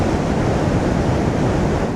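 Big ocean surf breaking at Taylor's Mistake beach on the east coast makes a loud, continuous wash of white noise with no voices.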